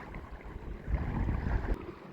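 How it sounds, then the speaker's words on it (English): Gusty wind rumbles against the microphone over quiet, choppy water, rising in the middle and easing off. "It just got super windy."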